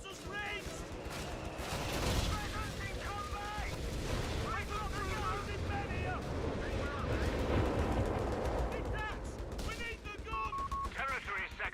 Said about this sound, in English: If I was an Axis player, I would drop artillery on you, and that's exactly what's happening